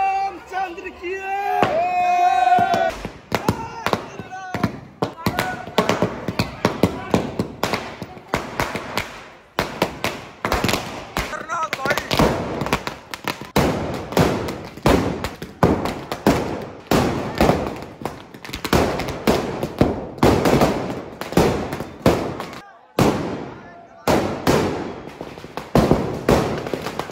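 Firecrackers burst one after another inside a burning Ravana effigy at a Dussehra celebration, a dense run of loud cracks and bangs that keeps going with crowd voices mixed in.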